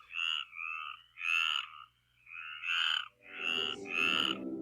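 Frogs croak in a steady chorus around a lake, repeated rhythmic calls pulsing in close succession with a low rumble joining near the end; no voices.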